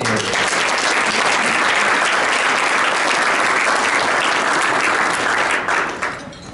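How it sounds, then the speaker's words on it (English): A Rotary club audience gives a hearty round of applause for officer candidates, dense and loud clapping sustained for about six seconds before trailing off. "Please give a hearty round of applause for this group of candidates"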